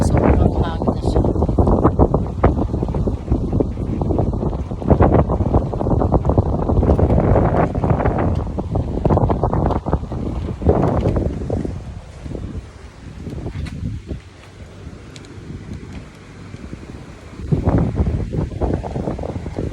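Strong wind blows outdoors in Coron, Palawan, roaring and buffeting close to the microphone in continuous gusts that ease slightly before surging again near the end.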